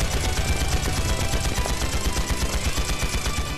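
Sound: gunfire in video game Trails into Reverie

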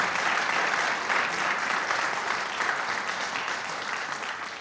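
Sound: audience applause for the band

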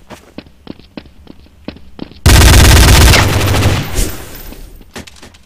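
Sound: gunfire from an unsilenced weapon in the video game Counter-Strike: Source

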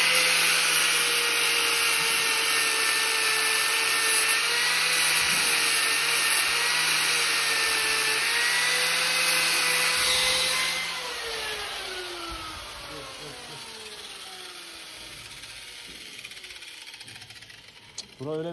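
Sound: angle grinder trimming a cow's hoof

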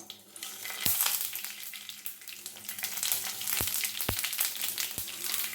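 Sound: red chillies and mustard seeds frying for sambar tempering

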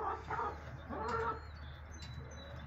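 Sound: chickens clucking

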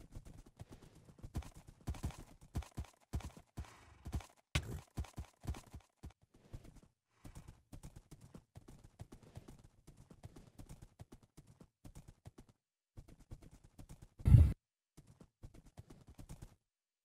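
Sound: horses galloping in Minecraft (CivMC) video game

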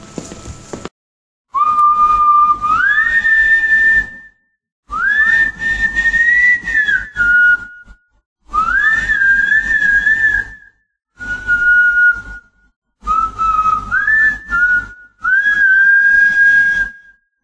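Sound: whistling sound effect in a horror audio story

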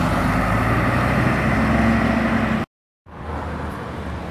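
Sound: bus at a coach station

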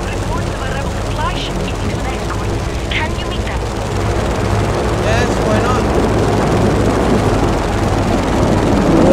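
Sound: aeroplane skimming low in video game Just Cause 3

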